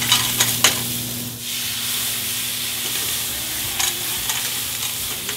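Mussels and brandy cooking in a hot pan, a steady close sizzle and hiss with occasional stirring scrapes and small clatters, no voices.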